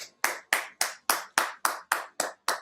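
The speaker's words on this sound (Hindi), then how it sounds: "ताली बजाओ एक बार जोर से।" At a live spiritual gathering, an audience claps in unison with nine sharp, evenly spaced claps, loud and close, with no talk between them.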